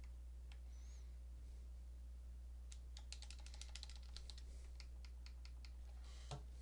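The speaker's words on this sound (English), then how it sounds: "It's more comfortable using the keyboard" Computer keyboard typing during a game, late at night: a quick burst of soft, close key clicks in an irregular rhythm over a steady low hum, with scattered single taps before and after.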